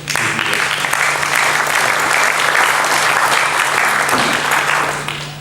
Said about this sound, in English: I think you can give that a round of applause.